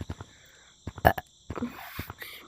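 Short, throaty burps and gulping noises, a few quick bursts with one louder belch near the middle and quiet gaps between, close to the mic.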